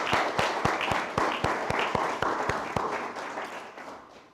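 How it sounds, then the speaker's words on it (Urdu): A church congregation claps in time together, loud rhythmic beats that slowly lose their rhythm and fade away over a few seconds. "کیوں نہ ہم خداوند کے نام کو زوردار تالیوں سے جلال دیں"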